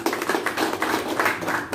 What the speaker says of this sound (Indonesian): Tepuk tangan untuk Pak Kadis.